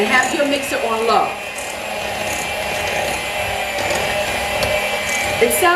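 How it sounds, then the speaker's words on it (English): Electric hand mixer running on its lowest speed, beating eggs into brownie batter in a bowl, a steady whirring hum with scraping, heard close under occasional background noise. "And have your mixer on low."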